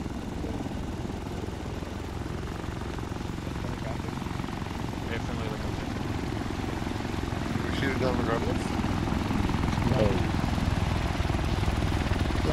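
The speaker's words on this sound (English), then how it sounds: "Audible helicopter." Helicopter rotor drone hums steadily and loudly through the whole stretch in a military video game operation, with brief radio chatter blips over it.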